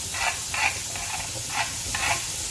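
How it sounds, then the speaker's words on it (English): Garlic going into a hot pan for spaghetti carbonara gives off a soft, steady sizzle with a few brief bursts of crackle, close and fairly quiet, with no one talking over it. "the next thing I'm gonna do is add my garlic"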